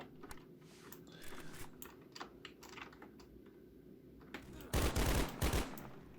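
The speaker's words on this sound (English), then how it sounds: "Weapon is working. I can reload." Gunfire from a weapon in the game DTFPS: rapid clicking and tapping builds through the first seconds, then two loud, close bursts of automatic fire near the end, with no talk.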